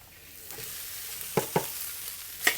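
Garlic browning in a hot wok sizzles steadily, then cooked, refrigerated rice goes in, and a few sharp scraping clanks of a spatula against the wok come through close up, without speech.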